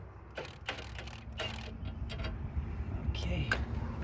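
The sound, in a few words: ratchet loosening sway bar bolt on Kia EV6 GT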